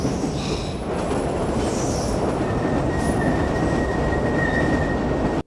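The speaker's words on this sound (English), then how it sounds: "I thought the train was going to stop for a second." A train rolls along the rails in a film scene. A continuous loud rumble of wheels runs throughout, with a thin, high wheel squeal coming and going. No voices are heard.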